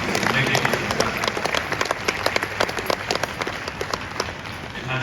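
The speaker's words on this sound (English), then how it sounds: "I believe you all deserve a round of applause for your contributions in making it successful." An audience at a diaspora summit in Ghana breaks into applause, dense, sustained clapping from a crowd that holds at a steady moderate level for the whole stretch, with some voices mixed in.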